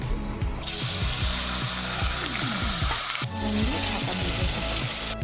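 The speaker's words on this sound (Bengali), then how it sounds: "এই টমেটো আর লঙ্কা কুচিতে দিয়ে দিচ্ছি" Tomato and chopped green chili hit hot oil in a pan with a loud, steady crackling sizzle that carries on throughout, with rhythmic stirring strokes underneath.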